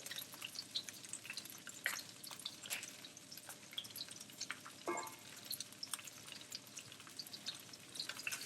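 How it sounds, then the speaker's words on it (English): Broccoli splatters in a frying pan, giving faint, scattered crackles and sharp pops over a soft, steady sizzle, with one brief louder burst midway. "it is splattering a bit because there's a little bit of moisture in there"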